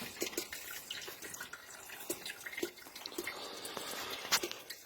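Fluid trickling and dripping steadily from an MGF's hydragas suspension valve during a subframe change, a continuous light watery patter with scattered drips, close and moderately quiet, no talking.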